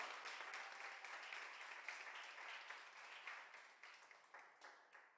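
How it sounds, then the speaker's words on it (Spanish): A congregation claps together in a church service, a dense and steady wash of applause that swells and thins unevenly, heard alone with no voices over it, fairly distant and quiet. "dele un fuerte aplauso al Señor"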